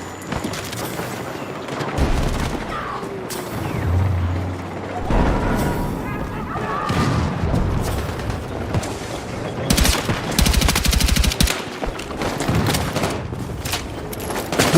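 Bursts of rapid gunfire and scattered shots ring out over a busy Battlefield 6 soundscape, with a dense fusillade crackling loudly toward the end.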